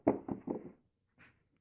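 A drawer slides into a repurposed cabinet with a few quick knocking bumps close by, followed by a brief soft scrape and a final thud.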